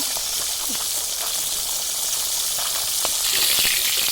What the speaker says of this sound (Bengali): লবণ হলুদ মাখিয়ে নিয়ে ভেজে নিচ্ছি কড়াইতে